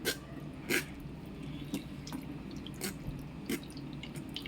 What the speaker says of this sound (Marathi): मिक्सरच्या भांड्यामध्ये पाणी घ्यायचं आणि ह्याच्यामध्ये असं पूर्ण हे पाणी काढून घ्यायचं